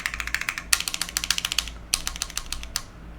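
Keystrokes clack rapidly on a handmade mechanical keyboard with a pingy, metallic ring, quick bursts of taps with a short pause between, close and crisp with no talking.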